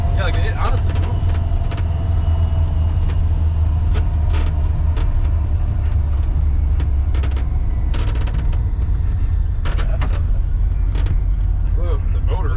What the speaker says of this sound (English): the motor in that truck inside